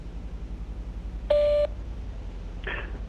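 A voicemail recording tone sounds as one clear, steady electronic beep lasting about a third of a second over a low background hum, followed moments later by a fainter, brief blip.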